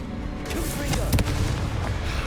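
A Confringo blasting spell explodes in Hogwarts Legacy amid spell combat, with several sharp booming impacts over a constant rumbling din, one cracking hit louder than the rest.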